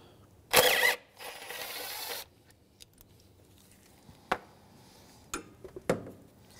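Mechanical clicks and a short burst of ratcheting as a ratchet wrench works loose a 10 mm bolt on a 2007-2013 Mitsubishi Outlander, followed by scattered faint taps and clinks of the tool, close and quiet with no talking.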